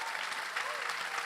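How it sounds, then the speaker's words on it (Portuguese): An audience applauds a panel at a church conference session, with dense, steady clapping filling the room throughout the short burst and no clear voices. "A gente pode aplaudir eles,"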